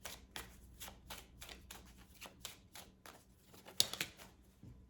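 Tarot cards are shuffled and handled close by in a quick, rhythmic series of soft papery riffles and flicks. A sharper snap of a card being pulled sounds near the end, and no one speaks.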